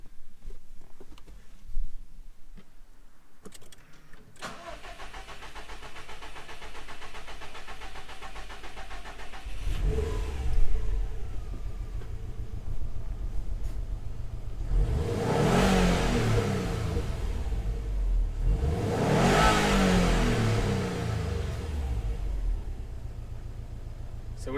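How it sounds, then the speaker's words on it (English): A 2019 Subaru WRX STI after an upper engine clean starts up, settles to a rough idle, then gets two strong revs that rise and fall, close and loud. "So we just want to give it a couple of revs just to blow all the stuff out"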